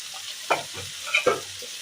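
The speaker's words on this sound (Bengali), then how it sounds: "এবার এর মধ্যে একটু আমি জল দিয়ে দেবো ফোটার জন্য" Katla fish curry with coriander sizzles in a pan as water is poured in, giving a few sharp splashing bursts over steady frying hiss, close and fairly loud.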